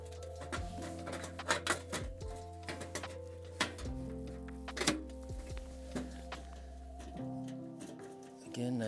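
A metal lid set onto a tipi stove fire pan during backcountry winter camping, giving several hollow metallic thunks and clanks with ringing resonance, close by, while a voice talks intermittently.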